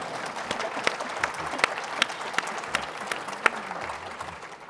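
Audience applause at a fireside chat event, steady and moderately loud, with a few sharp claps standing out from the crowd throughout.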